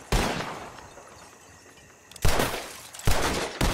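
Gunshots from a bottle-shooting contest in Red Dead Redemption 2: a sharp report with a long echoing tail, then a pair of quick loud cracks near the end, fairly close.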